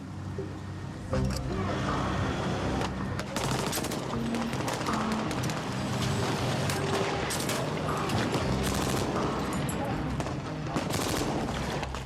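Bursts of rifle and machine-gun fire crack out during a surprise attack in army basic training, with rapid volleys repeating at varied distances over a rumble of vehicles and shouting voices.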